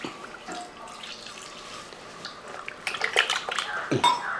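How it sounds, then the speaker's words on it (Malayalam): Water splashing and trickling into a pressure cooker holding chicken, with clinking metal, starting soft and growing louder and more splashy toward the end. "കുറച്ച് വെള്ളം കൂടെ ഒഴിച്ച് നമുക്ക് ഈ ചിക്കൻ ഒന്ന് വേവിച്ചെടുക്കണം"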